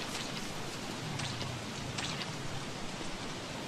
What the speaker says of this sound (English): It's raining frogs, guys.